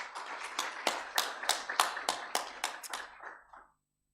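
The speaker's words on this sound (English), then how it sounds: "Give yourselves a round of applause." Audience applause at a university student council inauguration ceremony, coming as a run of distinct sharp claps that fade out after about three and a half seconds.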